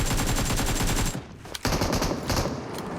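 Rapid automatic gunfire in PUBG Mobile, loud and close, with sustained bursts, a short lull, then a single sharp shot and renewed firing.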